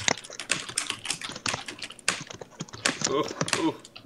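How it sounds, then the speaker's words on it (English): Fast, loud clacking of a computer keyboard during a livestream of a parkour game, rapid irregular keystrokes close to the microphone with a voice talking over them at times. "why is Luigi's keyboard so loud? I'm just typing"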